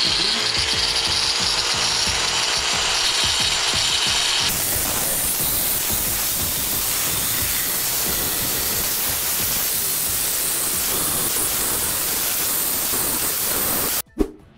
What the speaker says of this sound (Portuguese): A gente foi desgastando com a lixadeira ali bem devagarzinho